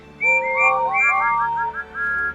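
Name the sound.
steam engines whistling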